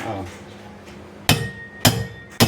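Three sharp, ringing hammer blows tap a bearing into its seat, spaced about half a second apart with quiet gaps between, and a faint voice is in the background.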